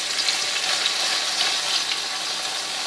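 Boiled, pounded beef sizzles steadily in hot oil in a wok while being fried for dendeng, a loud, even crackle running throughout with no voices.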